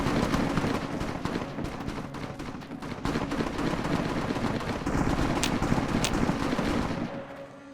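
Sustained gunfire rattles on in Fallout: New Vegas, modded as New California, a continuous dense barrage of overlapping shots at steady loudness with a few sharper cracks near the end, no talking.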